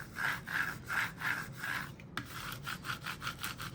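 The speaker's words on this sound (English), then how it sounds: "I'm gonna use my extra large scraper tool and I'm gonna go over it." An extra large scraper tool burnishes a Cricut vinyl decal with rapid back-and-forth rubbing strokes, about a dozen even swipes in a close, quiet, steady rhythm.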